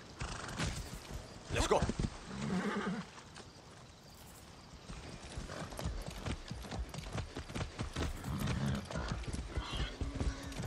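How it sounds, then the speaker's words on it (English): Horse hooves clip-clopping and a horse neighing in the Far Cry 6 video game, with a few whinnies and steady hoofbeats close by under brief speech and game ambience. "Be nice, horse."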